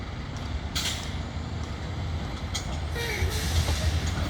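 An International DuraStar medium-duty box truck rolls along railroad tracks on rail wheels, a steady rumbling drone with faint metallic squeals and a brief hiss near the middle, continuous and fairly close.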